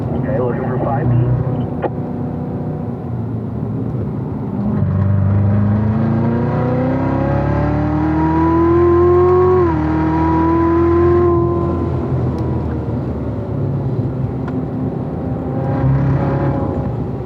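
Cars rolling slowly around a race track at Spring Mountain, a steady loud engine drone from inside a car that rises gently in pitch and falls again, with a voice talking over it.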